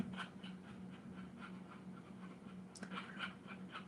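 A dog pants softly and steadily at close range, with faint wet licking sounds against a bed and a brief scrape partway through, fairly quiet overall.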